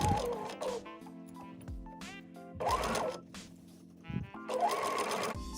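A sewing machine stitches along the pinned edge of a skirt waistband in three separate runs, each a close, steady mechanical whir broken by short pauses.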